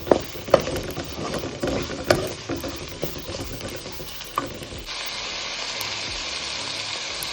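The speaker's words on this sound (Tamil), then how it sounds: "தக்காளி பச்சை மிளகா சேர்த்துட்டேங்க இது நல்லா வதங்கணும்" Tomatoes and green chilies sauté for a masala gravy, a steady frying sizzle with several sharp stirring clatters in the first half and then an even, continuous hiss with no talk.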